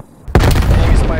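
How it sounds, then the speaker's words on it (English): A frag grenade explodes in Call of Duty: Black Ops Cold War, a sudden loud boom after a brief quiet lead-in, followed by a sustained crackling roar that fills the rest of the moment. "Throwing frag grenade."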